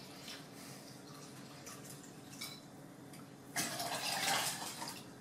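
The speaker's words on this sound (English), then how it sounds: "we're going to do about 6 cups of water. That also goes into the bucket" Water pours into a bucket while a coffee enema is prepared, a steady splashing stream that starts low and swells into a louder, fuller gush near the end, with no talking.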